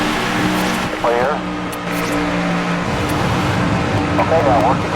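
A race car engine drones steadily in a racing video game played on a Hori RWA racing wheel, with the engine note rising and falling through gear changes under loud in-game sound, while people talk over it.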